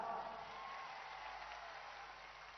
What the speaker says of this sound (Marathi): त्यांच्यासाठी एकदा टाळ्या वाजा